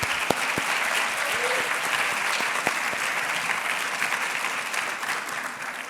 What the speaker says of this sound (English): So one last round of applause for all of our award winners today.